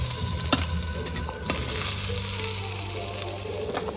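Whole cumin seeds and two dried red chillies fry in hot oil left from frying fish, producing a steady, close sizzling hiss with a few sharp crackles and spatters.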